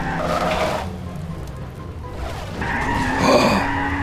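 A Half-Life 2 car skids in Garry's Mod, tires squealing loudly for under a second, a brief lull of engine rumble, then a second longer screech as the vehicle slides again.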